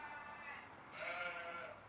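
A goat bleats in a drawn-out, wavering cry, faint and somewhat distant outdoors.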